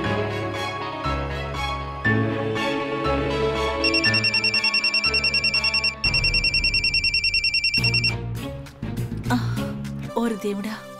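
A mobile phone rings at home, with repeated electronic ringtone beeps sounding for several seconds over dramatic background music.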